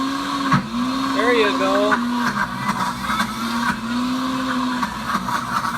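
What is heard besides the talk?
Pampered Chef Deluxe Cooking Blender making almond butter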